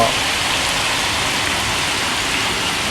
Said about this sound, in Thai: ทะลุสแลนนะครับฝนสายฝนทะลุสแลนนะครับผม